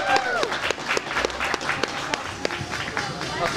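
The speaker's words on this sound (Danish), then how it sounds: "Så skal der klappes." Audience applause at a ski demo event, brisk scattered clapping with sharp individual claps over crowd murmur and a speaking voice.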